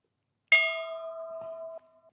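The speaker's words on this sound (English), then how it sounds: "Ding the bell." A ranch bell is struck once, giving a clear, close metallic ding that rings on with a sustained tone, followed by a faint second touch before the ringing fades.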